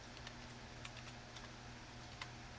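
Quiet typing on a computer keyboard during a search for shortwave radio books, scattered light key clicks over a low steady room hum, with no one speaking.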